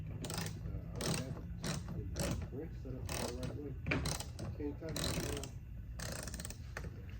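Repeated ratcheting clicks come in short bursts while a screw is tightened during installation of mud flaps on a 2024 Tesla Model Y, with a faint voice at times underneath.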